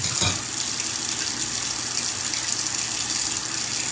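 Tap water runs steadily into a kitchen sink during cooking. It is a loud, close, continuous gushing rush with an even texture throughout and no talk.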